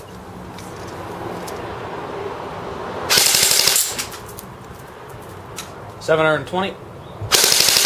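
A CYMA MP5 RIS airsoft gun on a 9.6 volt battery fires full-auto bursts of BBs through a chronograph, three loud rapid rattling strings with a brief voice and quieter handling between them.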